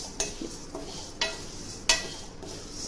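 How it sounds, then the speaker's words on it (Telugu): Urad dal frying in oil in a pan, being prepared for idli podi: a soft continuous sizzle broken by three or four sharp scraping stirs, close and moderately quiet, with no voices. "ఇప్పుడు ఉద్దిపప్పు వేసి ఉండాము. ఇది బాగా వేయించాలా."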